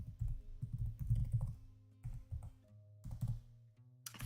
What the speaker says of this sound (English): I'll type that one in.